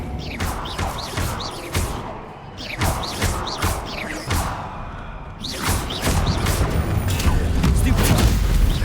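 Spellcasting combat in Hogwarts Legacy, including an Expelliarmus disarming spell, gives a busy run of whooshing bursts, thuds and booming impacts in quick succession, loud and close.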